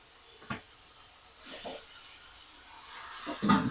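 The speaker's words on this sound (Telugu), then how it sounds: "ఇక మంచిగా ఫ్రై అయినాయి అన్నట్టు." Vegetables fry in a pan for a diet chicken curry, a quiet steady sizzle broken by a few brief stirring scrapes, with a louder clatter near the end.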